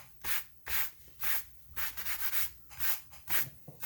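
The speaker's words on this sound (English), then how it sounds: "I'm just going to lightly brush over top of where I have laid down the gold." A shoe brush lightly sweeps over gold leaf laid on a leather saddle, making soft rhythmic rubbing strokes, about eight even swipes, close and fairly quiet with no talk.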